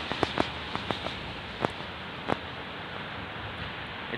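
Steady soft hiss of light drizzle in Baku in the morning, with scattered faint droplet ticks and patters, fairly close, no voices.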